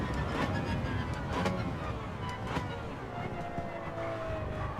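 An Aston Martin Valkyrie in Gran Turismo 7 roars continuously at high revs, the engine note rising and dipping slightly as the throttle is worked on and off, loud and close throughout with no talk.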